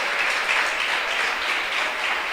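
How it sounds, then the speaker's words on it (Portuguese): A church congregation claps together during a sermon, a steady, fairly loud wash of applause with no voices standing out. "Você pode aplaudir o Senhor?"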